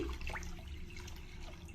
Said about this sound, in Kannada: ಇದಕ್ಕೆ ಒಂದು ಆರು ಗ್ಲಾಸಷ್ಟು ನೀರನ್ನ ನಾನು ಸೇರಿಸ್ತಾ ಇದ್ದೀನಿ